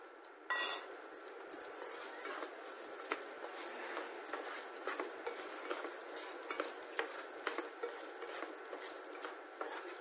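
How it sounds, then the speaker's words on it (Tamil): Green chillies and raw mango sautéing in a pan for mango chutney, a steady low sizzle with scraping and stirring clinks running throughout, close and alone without talk. "பச்சை மிளகாய், மாங்காய் எல்லாமே நல்லா வதங்கிடுச்சு."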